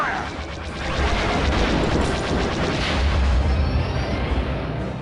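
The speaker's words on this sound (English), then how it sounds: "We're taking heavy fire!" Heavy fire and explosions from Rogue Squadron, a dense continuous roar of blasts and booming bursts that stays loud throughout with rumbling low-end impacts.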